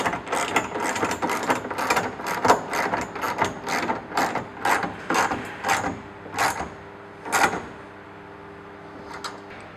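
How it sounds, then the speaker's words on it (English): Bolts with washers and nuts being tightened to clamp the hood stick hoops of an 88-inch canvas hood kit, producing rapid, busy mechanical clicking and ratcheting in close bursts that slow and thin out toward the end. "And literally do them up till they clamp down tight."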